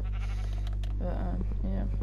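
A Minecraft sheep bleats a few times in a blocky video-game world, the wavering calls rising over a steady low hum as someone talks over them.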